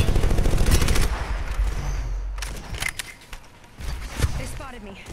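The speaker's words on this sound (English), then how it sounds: "The enemies are shooting at me." Gunfire in the Apex Legends battle royale game: rapid bursts of automatic fire and single shots, loud at first then scattered and intermittent, with a character voice speaking between volleys.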